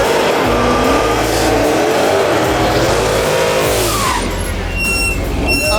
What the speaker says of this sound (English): That's a real burnout from the Mopar.